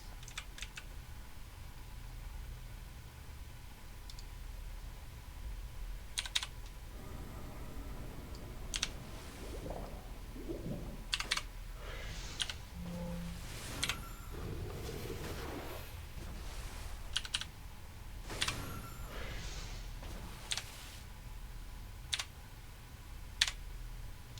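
Computer keyboard keys tapped during gameplay, scattered quiet clicks and short bursts of typing over a steady low background hiss, fairly faint and close.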